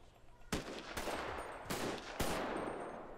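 Four loud, crisp gunshots in GTA V, fired at uneven intervals of roughly half a second to a second, each leaving a reverberant tail in the game's open-air setting.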